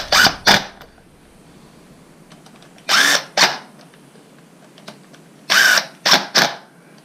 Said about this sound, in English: I'm gonna use my little impact here and just kind of snug them down